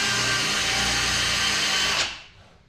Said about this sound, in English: we're going to drill it apart